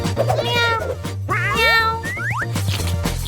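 A person imitates a cat, giving a series of drawn-out, sliding meows in close succession over a steady background tone, loud and near.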